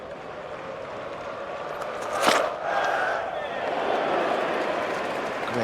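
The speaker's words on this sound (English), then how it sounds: "Great reaction from this crowd. It's a capacity crowd." Capacity crowd at an England versus Australia cricket match in a stadium, a sudden roar of cheering swelling from a broad murmur and then holding as a loud, distant wash of crowd noise.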